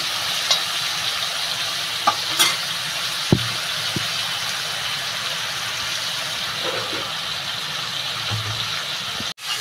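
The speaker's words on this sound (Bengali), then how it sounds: "আগে মাছটা ভাজি।" Fish frying in a pan for a Bengali prawn and pumpkin-greens curry, a steady broadband sizzle running throughout with a few faint clinks and taps of a utensil against the pan.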